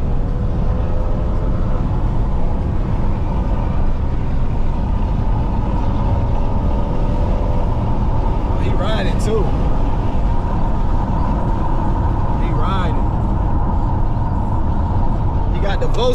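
A Volkswagen with a loud muffler drives by on an open road, a heavy low rumble of engine and exhaust filling the scene continuously and close, with traffic noise around it.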